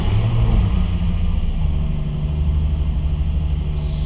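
A Nissan 350Z drift build with a swapped transmission, lightweight flywheel and upgraded clutch idles and pulls away in a steady, loud low rumble, heard close without talk.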